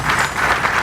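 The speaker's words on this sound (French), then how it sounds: "je vous demanderai qu'on puisse l'applaudir très très fort" A crowd applauds the elected governor of Mai-Ndombe province at a reception, a dense, steady wash of clapping that fills the whole moment without a break.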